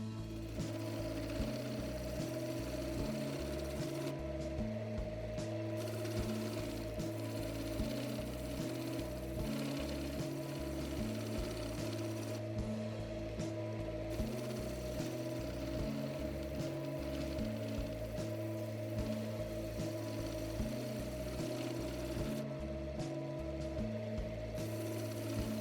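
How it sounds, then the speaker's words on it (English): A wood lathe spins an opal and mulberry timber ring, giving a steady, low, pulsing motor hum that carries on without a break at moderate distance, with no talk. "Onto the wood lathe, and this is where the magic starts to happen."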